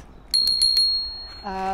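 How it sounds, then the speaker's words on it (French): A bicycle bell rings four quick times, clear and close, followed by a short voice-like tone as the ringing fades. "les petits accessoires utiles, ça va être la sonnette"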